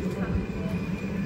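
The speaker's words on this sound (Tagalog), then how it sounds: "Yan na yung tren. Dumating." A train pulls into Bologna Centrale station with a low rumbling roll and faint high wheel tones, close by, while voices murmur over it.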